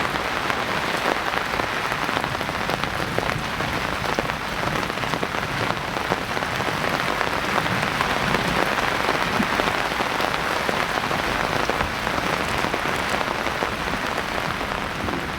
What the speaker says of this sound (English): We are now roughly an hour into this rain event, and it continues to go on with no sign of letting up.